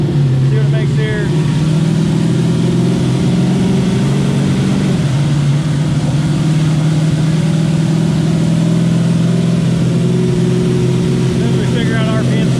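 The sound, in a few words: turbocharged LS-swapped Mustang engine revving on a dyno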